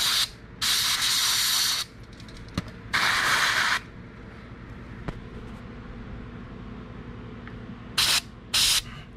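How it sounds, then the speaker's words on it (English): Electric contact cleaner sprayed into the motor of an RC car: four sharp, close hissing bursts, two longer ones near the start and two quick short ones at the end, with quiet pauses between. "This is electric cleaner. And what I do with electric cleaner is I spray it inside the motor here."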